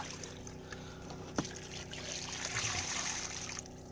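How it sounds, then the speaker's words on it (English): Water spilling and trickling from the overflow of a maxed-out washing machine during off-grid laundry, a steady close splashing wash with one sharp knock partway through. "water is leaking out the overflow like crazy"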